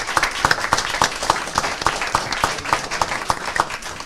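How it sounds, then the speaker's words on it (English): An audience at a school district board meeting applauds two coaches, producing steady, moderately loud clapping with a few distinct, regular hand claps standing out above the crowd. "I want to give them a round of applause."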